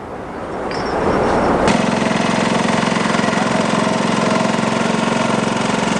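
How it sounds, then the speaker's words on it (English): A water well drilling rig starts up and settles into a loud steady engine drone with a constant low mechanical hum, building over the first couple of seconds then running evenly with no talk. "This is Ryan's drilling rig in operation."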